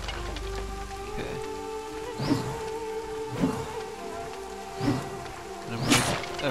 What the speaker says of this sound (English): It's raining here in the world of Victor Vran.